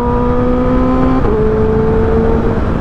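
A Kawasaki ZX4RR motorcycle fitted with an Ixil exhaust, heard very close and loud as a steady high-pitched engine drone whose pitch shifts once while revving, with no other sound over it.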